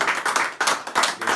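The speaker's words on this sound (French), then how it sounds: "Applaudissons pour Jésus." A congregation claps in church during a testimony, producing loud rhythmic bursts of many hands in a steady repeating beat close by.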